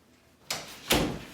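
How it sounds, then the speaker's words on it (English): A door is shut indoors with a light resistance band looped around the back of the doorknob: two close, fairly loud thuds about half a second apart, the second louder, with no talking. "tie it, and I'm going to shut the door."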